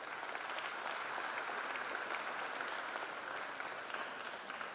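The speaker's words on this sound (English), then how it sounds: "Give a big applause to those students." Sustained applause from an audience of students' peers at a freshers' induction programme, steady dense clapping throughout, fairly distant and even.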